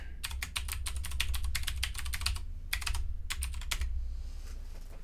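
Someone types a password on a computer keyboard while installing Open Media Vault on an old PC, heard as two quick bursts of close, clicky keystrokes with a short pause between them and no speech.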